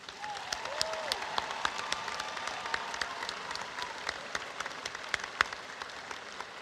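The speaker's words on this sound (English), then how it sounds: "Let's give them all a round of applause, please." Scattered applause from a graduation ceremony audience, fairly distant and thin, with individual claps popping out of a soft continuous patter.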